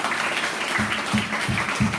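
Church congregation clapping in praise during a teachers' retreat service: a short stretch of fairly loud, close, rhythmic claps with a steady beat.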